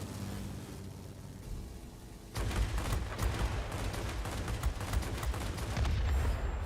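The guns of a Bf 109 K-6 fighter in World of Warplanes open up suddenly under steady engine drone, a loud sustained rattle of rapid fire continuing to the end with no talking.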